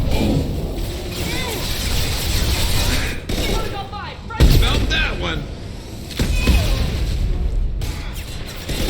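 A scoped rifle fires during Mass Effect Legendary Edition combat, with a couple of sharp reports punching through a dense mix of game effects, mechanical clatter and someone talking over it.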